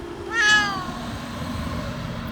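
A distressed cat riding in a car during a long house-moving journey lets out a single loud, close, drawn-out meow against a low road hum.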